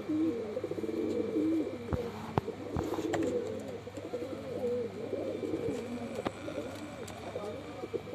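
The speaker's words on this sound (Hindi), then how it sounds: "मैं कबूतर। भाई सारे सिलेक्टेड कबूतर" Madrasi pigeons with deep antique-style eyes, a selected single-colour flock, coo in a loft. Their soft, overlapping, rolling calls run throughout at close range, with occasional sharp taps and someone speaking faintly in the background.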